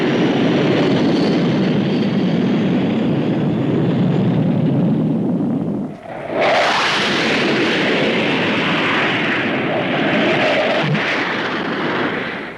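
A supersonic jet at the Farnborough air show roars loudly and continuously overhead, its broad rumble swelling into a harsher, brighter blast midway, with no voices.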